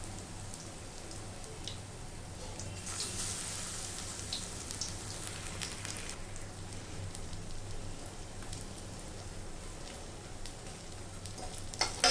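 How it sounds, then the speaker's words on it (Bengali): Stuffed kakrol (bitter gourd) pieces fry in hot oil in a pan, giving a faint, continuous crackling sizzle with no talk. "তেল গরম হয়ে গেছে, এবার আমি একে একে এগুলো আমি ভেজে নেব।"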